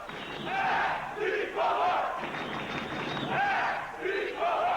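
Football fans greeting their team at an airport, a crowd chanting loudly in rhythmic, rising-and-falling phrases with cheering mixed in, sustained and fairly close.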